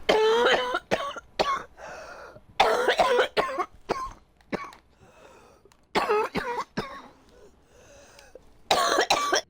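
A coughing fit: repeated harsh coughs in clustered bursts with short pauses between, close and loud, some throat clearing mixed in, with no talking.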